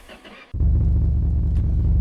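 A car engine missing its exhaust, heard in a garage as it fires up after a quiet moment, then settles into a loud, deep, throbbing rumble that stays close and constant.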